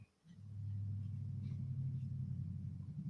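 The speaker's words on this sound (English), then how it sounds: "If his exhaust is loud enough to come through the mic inside the house" A car with a loud exhaust rumbles outside, heard from inside a house as a low, steady drone that swells in after a brief quiet and holds for a few seconds with no talk.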